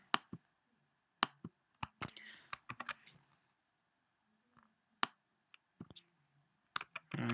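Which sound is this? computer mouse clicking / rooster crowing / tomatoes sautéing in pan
computer mouse clicking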